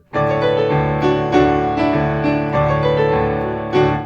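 Sustained piano chords are struck one after another at an even pace, ringing out clearly and close, with no voices.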